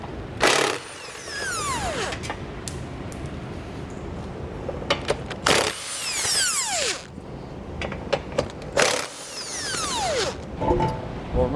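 A socket ratchet with a 15mm socket works nuts loose on the bumper beam of a 2020 Tesla Model Y, producing repeated bursts of rapid ratcheting clicks, three or so longer pulls separated by short pauses and metallic knocks.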